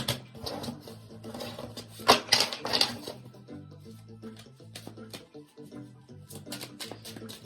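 Double-sided reverse tarot cards being shuffled, a run of crisp close riffling and tapping bursts with a loud flurry near the middle, then softer irregular slides and taps over a low steady hum.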